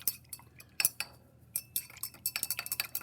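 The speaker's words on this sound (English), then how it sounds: "we're going to use our stirring rods" A glass stirring rod clinks repeatedly against a beaker while stirring a carbonate solution, light bright taps that start irregular and grow into a quick steady rhythm, close and fairly quiet.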